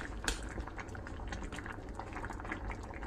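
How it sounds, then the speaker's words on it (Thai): A Thai curry of canned bamboo shoots, red ant eggs and lemon basil leaves boils in a pot, giving a steady low bubbling and gurgling with small pops, close and fairly quiet, with no speech. "รอให้เดือดสักพักให้ใบแมงลักหอมแล้วก็เสร็จเรียบร้อย"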